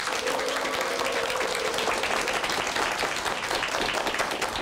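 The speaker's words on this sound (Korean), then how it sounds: "큰 박수로 맞이해 주시기 바랍니다." A television studio audience gives a guest a warm welcome with dense, steady applause that holds at an even, loud level throughout.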